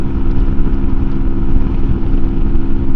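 A 2024 MUTT 125 adventure motorcycle with a single engine still being run in drones steadily at speed into a headwind, a loud continuous low rumble mixed with wind noise and no talk.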